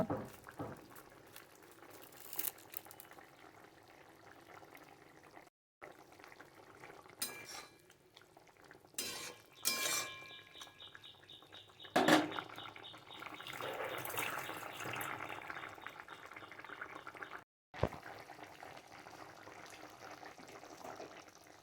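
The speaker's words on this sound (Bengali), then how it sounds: "মাছ দুটো দিয়ে ভালো করে আরও একটু ফুটিয়ে নিচ্ছি" A pot of light Bengali fish curry with drumsticks and potatoes simmers quietly, with soft bubbling interrupted by occasional close clinks and scrapes of a utensil against the pot.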